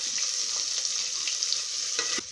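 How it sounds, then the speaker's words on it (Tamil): Steady sizzling of sliced onions and green chilies frying in hot oil for rava biryani, continuous broadband hiss with occasional stirring scrapes and small pops, close by. "1 நிமிஷம் வெங்காயத்தை நல்லா வதக்கி விடணும்."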